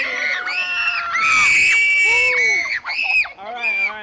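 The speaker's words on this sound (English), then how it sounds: "So whoever can yell the loudest," A crowd at an open swim pool party yells and screams as loudly as possible, with children's shrieks and whoops overlapping in a sustained loud burst that briefly dips and surges again.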